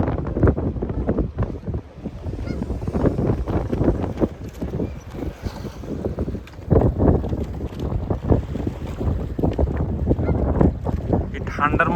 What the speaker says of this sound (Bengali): অনেক বাতাস, ঠান্ডা।